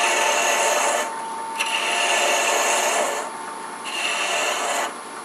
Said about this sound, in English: I'm just going to use this 3/8 inch spindle gouge